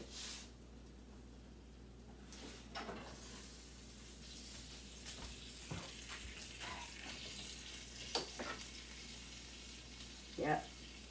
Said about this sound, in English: I hear it sizzling.